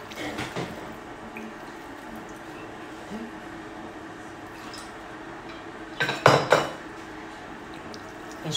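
A small fork scraping and clinking against a dish while stirring hot, freshly moistened barley semolina, soft scratchy sounds with a brief louder cluster of metallic taps near the end, no talk.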